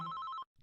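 A telephone bell rings in one short, bright trill of rapid pulses that stops abruptly, followed by a faint brief murmur, with no voices.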